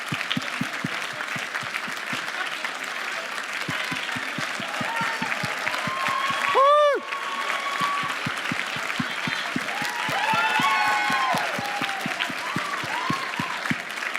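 Audience applause for the judges at a 2017 awards ceremony, steady clapping with distinct individual claps standing out, music notes rising over it, and a brief sharp sound midway.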